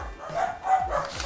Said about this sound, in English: And sorry for my dogs.